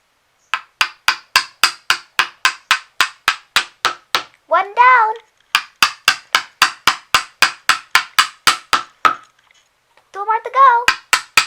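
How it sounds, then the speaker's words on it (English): A wooden peg toy struck repeatedly with a toy hammer, a rapid even run of loud sharp knocks, broken twice by someone speaking. "All you have to do is hammer it down like this."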